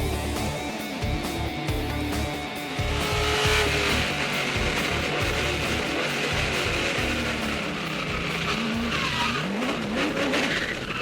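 A NASCAR race car spins out on the Montreal road course. Its tires skid and squeal loudly over the steady roar of the engine, with the pitch of the revs shifting as the car slides.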